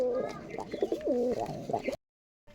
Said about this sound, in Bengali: এগুলো রাজশাহীর গিরিবাজ